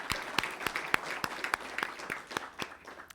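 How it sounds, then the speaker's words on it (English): Scattered, fairly quiet clapping from a small veterans town hall audience thanking staff, individual claps distinct and loosely spaced over a soft wash of applause. "Would you give them a round of applause to say thank you for the great service that they have provided?"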